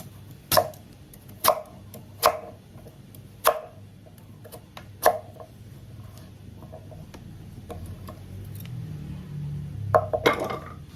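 A knife chops peeled purple sweet potato on a board for a Thai purple sweet potato cup dessert, giving about six sharp, evenly spaced knocks and then a quieter stretch with a few light clicks near the end.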